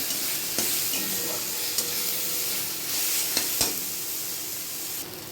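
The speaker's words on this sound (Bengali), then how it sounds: "আদা রসুনটা যেটা কড়াইতে ভাজছি" Ginger and garlic frying in oil in a kadai, with a continuous close sizzle and a few sharp scrapes of a spatula stirring against the pan.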